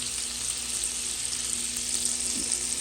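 Half a stick of butter melting in a pan on a stovetop over moderate heat, producing an even, steady sizzling hiss with no talking.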